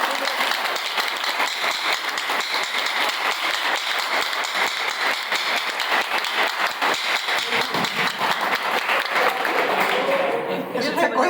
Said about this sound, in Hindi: एक बार जोरदार और शोरदार दिल से तालियां साहू सर के लिए होनी चाहिए